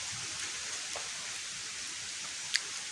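Steady rain falls on a rainy day, a soft continuous hiss with a few isolated drip taps, fairly faint and with no voices.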